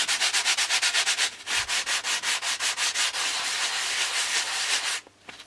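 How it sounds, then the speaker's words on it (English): Rhythmic back-and-forth sanding strokes on a Bellanca Decathlon wing joint, fast and even at first, then a longer continuous rubbing before stopping; close and crisp, no voices. "do the sanding bit again"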